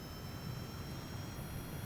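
Rocket engines fire in Kerbal Space Program as a craft speeds down a mountainside toward a runway, giving a steady, loud, dense roar that holds unchanged throughout.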